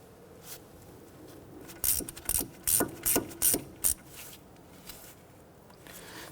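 A hand ratchet tightens the ABS sensor bolt on a Honda Ridgeline's front steering knuckle. It gives six short, close bursts of clicking with brief pauses between them, over faint background noise.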